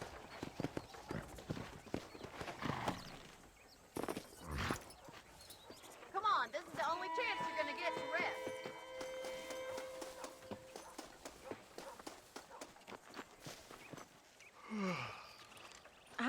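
Horse hooves clopping at a riding pace in the Western video game Red Dead Redemption, a steady clip-clop running under game music with occasional voices.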